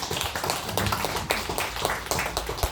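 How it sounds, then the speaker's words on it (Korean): A church congregation claps together at a service about building a new sanctuary, a busy, uneven patter of many hands, fairly close and lively, with occasional sharper claps standing out. "우리 자녀사람 바라보면서 박수 한번 쳐주세요"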